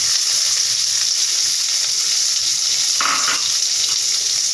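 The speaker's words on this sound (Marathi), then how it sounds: "फोडणीवर मी अर्धा टीस्पून मोहरी टाकलेली आहे आणि 1 टीस्पून जिरे टाकलेले आहे आणि त्याच्यावर कापलेला कांदाही" Chopped onion going into hot oil already tempered with mustard seeds and cumin for a bean khichdi, giving a steady, close, continuous sizzle and crackle from start to finish, with a brief stirring or scraping burst partway through and no talking.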